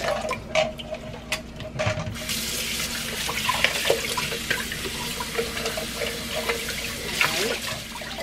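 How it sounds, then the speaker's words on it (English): Running tap water rinsing out the inside of a hollowed pumpkin, a few clunks and splashes at first, then a steady gushing stream that fills the rest, with a voice faintly underneath. "now you wanna put the water and rinse it inside real good"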